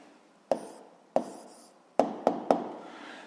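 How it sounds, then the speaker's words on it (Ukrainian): An answer is written down during a seventh-grade physics lesson: five sharp, separate taps and short scratches, close and fairly quiet, with a pause between the first two and a quick cluster at the end. "записуємо відповідь, пишемо відповідь"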